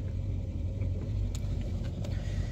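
A motorbike on cross tyres runs roughly outdoors in a field, giving a steady, loud, close engine rumble with an uneven idle throughout.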